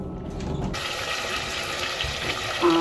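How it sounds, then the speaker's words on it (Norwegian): Water runs from a tap while fetching water aboard a boat, a steady rushing hiss that starts abruptly and keeps flowing, with a brief tonal whine near the end. "Nå skal jeg hente vann."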